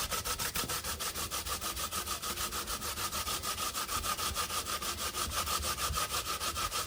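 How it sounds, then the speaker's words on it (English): Sweet potato, cassava and yellow yam being rubbed over a hand grater, a steady fast rasping scrape repeating in even strokes, close and fairly loud with no talking. "I'm gonna be grating now my sweet potato and my cassava and my little piece of yellow yam."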